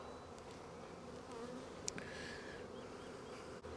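A steady, dense buzz of many honey bees around hive frames, close and continuous, with no voices.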